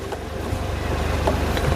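Water rushes continuously near the Walheri waterfall, a broad steady roar of the flowing river mixed with wind on the microphone, with no talk.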